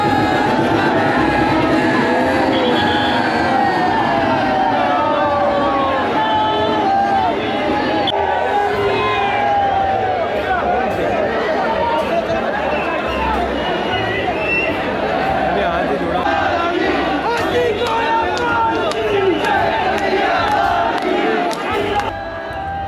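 A large crowd of devotees gathers at Jagdish Chowk in Udaipur for the Jagannath Rath Yatra, a loud dense hubbub of shouting, chanting voices and cheering that carries on steadily throughout.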